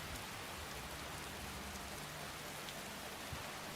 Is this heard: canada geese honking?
no